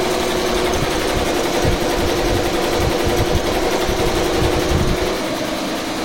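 Four-head embroidery machine stitching at 850 rpm in a showroom, a loud, close, continuous mechanical whir with a rapid, even needle rhythm and a slight drop in level near the end.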